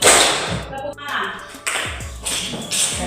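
A classroom of students claps in a rhythmic call-and-response clapping game, sharp bursts of hand claps and taps in short patterned groups, close and fairly loud, with voices chanting along between the claps.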